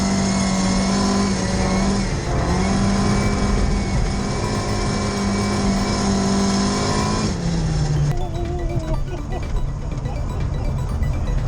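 A rally car driven on ice passes a minivan, its engine revving loud and close with a sustained high tone that drops as it goes by, while a voice talks over the roar.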